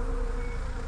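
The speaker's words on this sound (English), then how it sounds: "Right, little bees." A swarm of bees buzzes inside the wall of a bridal boutique, a steady dense droning hum, loud and close, with no pause across the moment.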